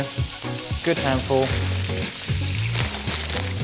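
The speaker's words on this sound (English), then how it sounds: "The Pinstripe Chef fries it, it tastes better." Spinach frying in a pan, a loud, steady sizzle with bursts of stirring and crackle, close up, while someone speaks briefly over it.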